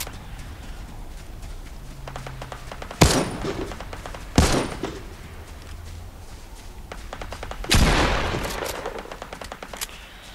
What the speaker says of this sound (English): A lot of gunshots down there.